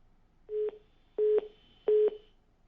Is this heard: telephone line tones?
yes